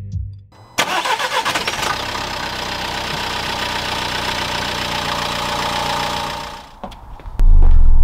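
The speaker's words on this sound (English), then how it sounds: "and then you can start the car." A Renault Clio engine, just serviced with its fuel system primed, cranks briefly, catches loudly and settles into a steady close idle for about six seconds before shutting off, followed by a sudden loud clunk.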